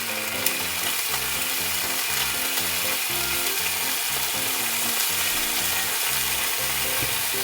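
Food sautés in a hot pan with a loud, continuous crackling sizzle close by, steady from start to finish with no voices.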